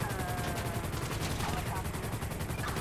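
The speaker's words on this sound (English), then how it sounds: "I am getting really shot at" Constant gunfire in GTA 5 on PC, with dense bursts of shots and machine-gun fire coming close and loud for the whole stretch. It is full and unbroken, with no clear voice.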